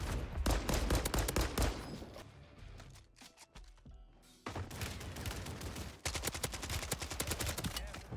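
Shotgun and gunfire in the Warzone 3 battle royale game, with dense, loud repeated blasts across the whole stretch, a brief thinner lull in the middle, then heavy firing again.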